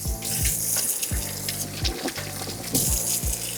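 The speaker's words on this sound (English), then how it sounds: "I am going to turn on the water" Water runs steadily from a kitchen sink faucet while potatoes are rinsed, a continuous hiss broken by soft splashes and knocks, close and alone without speech.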